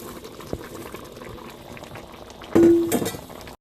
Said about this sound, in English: Now that my tomatoes are starting to boil down nicely, I'm going to add my 2 red peppers.